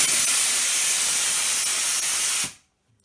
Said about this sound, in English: So that was just a compressor going off.